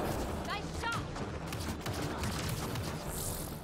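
Gunfire from Mass Effect: Andromeda gameplay in a command base attack, rapid overlapping shots forming a dense, continuous rattle throughout, with a voice talking over it.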